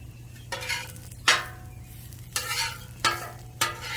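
Pineapple slices coated in brown sugar sizzle on a grill, a steady low frying hiss broken by several sharper scraping bursts as pieces are moved or flipped, close by with no talking.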